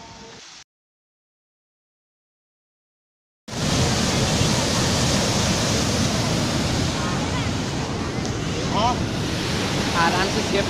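Water roars through the open gates of Govind Sagar Dam in Lalitpur, a loud, steady rushing wash that starts abruptly after a short silence and continues unbroken, with a faint voice briefly under it.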